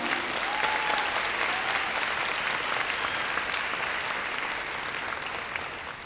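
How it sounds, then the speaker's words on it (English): A Scholars' Academy 2025 graduation audience applauds the faculty with a full, even burst of clapping from a large crowd that carries on steadily and eases off slightly near the end, with a brief whistle early on. "Can we give them a big round of applause?"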